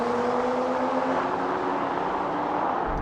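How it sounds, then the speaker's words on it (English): Several cars, a BMW M340i, Audi S4, AMG E53 and Volvo S60 Polestar hybrid, accelerate in a rolling drag race from 50 mph in comfort mode, heard as a steady, dense engine and road drone from inside a car. "Now we're going to have a rolling race in comfort mode from 50 miles an hour."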